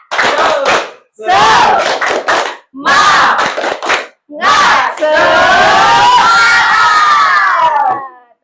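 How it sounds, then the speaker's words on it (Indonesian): A classroom of children performs the tepuk semangat clapping chant, bursts of rhythmic clapping and shouted chanting in short phrases, ending in a sustained loud group shout, close and energetic. "Selanjutnya kita ice breaking, tepuk semangat lagi ya."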